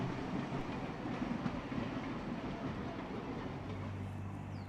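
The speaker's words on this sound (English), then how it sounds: "The loco is seen departing Thirlmere." A 27 class locomotive, number 2705, pulls away from Thirlmere station in New South Wales. Its steady rumble and rolling rail noise hold continuously at a moderate distance.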